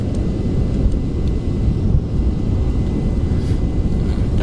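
Rocket engine roar at launch in Kerbal Space Program, a loud, steady, dense low rumble that carries on without break, close and unvarying.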